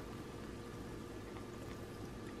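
Flavored sparkling water being poured, a quiet continuous fizzing splash, faint and steady with no voices.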